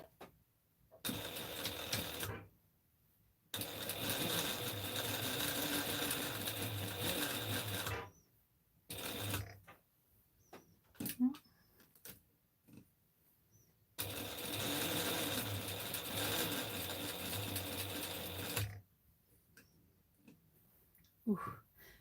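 A sewing machine stitches stretchy fabric for a McCall's 7974 garment in several long runs of steady humming, separated by quiet pauses and small clicks of handling.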